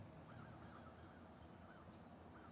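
Crows cawing faintly in the distance, a few scattered calls standing out over a steady, low background hum.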